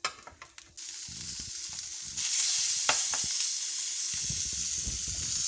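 Salmon fillets sizzling hard in a frying pan just after the flip, a loud steady hiss that swells after a few brief clatters and scrapes, close by and without talk.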